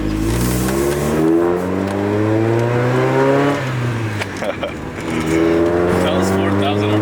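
Four-cylinder engine of a drift-prepared Mazda Miata, around a 1999–2000 model, revving steadily upward on a track, loud and close with rising harmonic pitch, then dropping off briefly before climbing again.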